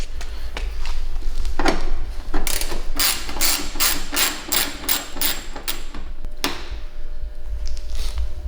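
A hand ratchet works two small screws loose from a bumper piece on a 2007-2013 GMC Sierra during headlight replacement: quick bursts of rapid, sharp clicking close up, pausing between runs, with light clunks of handling.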